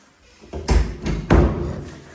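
A closet door in a house bedroom being opened and closed: a few muffled wooden thumps and a knock in quick succession, close by and moderately loud, with no voices.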